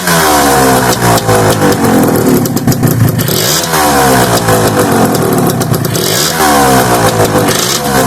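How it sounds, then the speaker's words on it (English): Gilera Runner scooter with a Scorpion expansion pipe exhaust revving loudly up close, the two-stroke engine rising and falling through several throttle blips over a steady idle. "Well, I couldn't do a video on the Scorpion exhaust without you hearing it, could I?"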